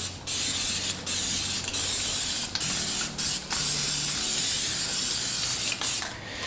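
FW1 aerosol product sprayed from a can in a steady, loud hiss that runs almost continuously, broken by a few brief pauses between bursts.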